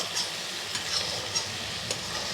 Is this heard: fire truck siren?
no